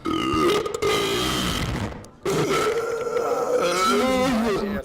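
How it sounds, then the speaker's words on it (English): Loud, drawn-out burps in a burping contest, a long rumbling belch broken by a brief pause and then another sustained, grinding burp, close and dominant, with no speech over it. "remember that time there was a burping contest?"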